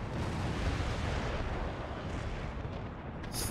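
Naval cannon fire in Empire Total War, a heavy, continuous rumbling roar of broadside shots blending into one loud, dense barrage with no clear gaps between blasts.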